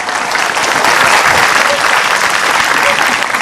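Enthusiastic clapping from the congregation at an Islamic religious program, a thick, sustained roar of many hands, loud and near, with a voice faintly mixed in beneath the applause.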